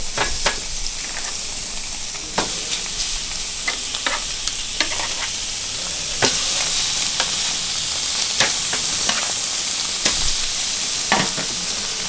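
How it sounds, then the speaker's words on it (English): Meat searing in a hot uncovered pot for birria tacos, a loud continuous sizzle and hiss up close, broken by occasional scrapes and stirring knocks, with no voices. "Like it's just really to sear the outside of it."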